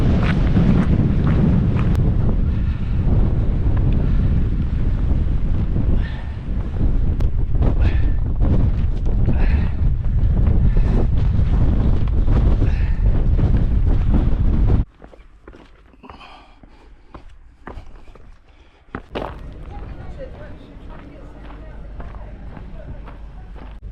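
Strong wind buffets the microphone on the coast at St Bees Head, a loud, continuous roar for about fifteen seconds that then drops to a lighter gusting rush, with faint crunching footsteps.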